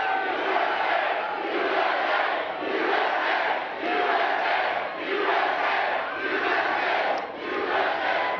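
Large rally crowd in Orlando, Florida cheering and chanting in loud, surging waves that swell and dip in a steady rhythm, filling the whole stretch.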